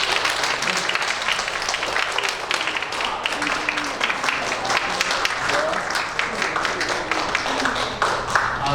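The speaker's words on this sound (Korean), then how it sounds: "드릴 때 큰 박수로 주시면 좋겠습니다" A church congregation claps loudly and continuously during a Sunday service as a large pot is presented as a gift, a dense, even wash of applause filling the room throughout.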